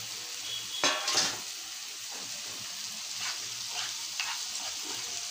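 Chili and spices for a fish curry sautéing in a pan with a steady broadband sizzle, a few metal scrapes and clinks of stirring, close and moderately loud, no voices.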